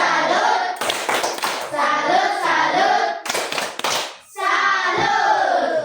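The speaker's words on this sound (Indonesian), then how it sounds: "tepuk salat dulu" Rhythmic group hand clapping during a tepuk salat clapping chant in a classroom, sharp bursts of claps alternating with sung chanting voices.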